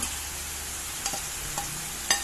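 Air-dried beef and tofu stir-fry with vegetables in a pan, a continuous hiss of frying broken by a few clinks of the utensil against the pan, with no voices.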